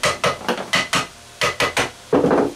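A ball-peen hammer tapping metal parts during a Hawken .54 caliber flintlock rifle build, about a dozen sharp close taps in quick irregular rhythm, with no talking.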